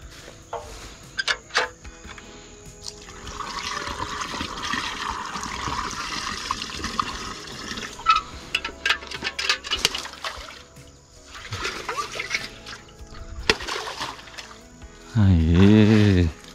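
Water splashes and gurgles unevenly as it is poured into a gallon jug on a farm, much of it spilling, with people talking throughout and a wavering mechanical whir at the end.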